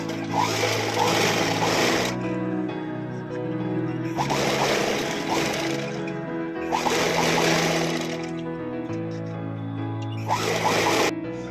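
An electric sewing machine stitches silk saree fabric to join the top of a long frock. It runs in about four loud, whirring bursts separated by short pauses.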